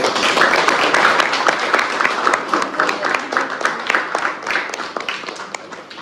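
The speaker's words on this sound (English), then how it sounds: "I would like to ask all our students to have a good applause, a very big applause for our madam" Students at a professor's farewell give sustained, dense applause, a steady close wash of many hands clapping that thins slightly toward the end.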